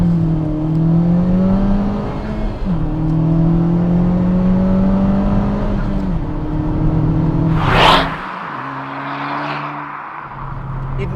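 Honda Civic Type R FK2 Black Edition with a 306 bhp turbocharged engine, pulling hard in second gear on a damp road: a loud, steady engine drone rising in pitch, with a gearshift, then a sharp burst of whooshing noise near the end.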